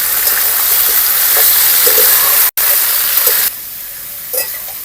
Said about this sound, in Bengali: দিয়ে দিচ্ছি একটুখানি হলুদ দিয়ে এখন ভালো করে নাড়াচাড়া করব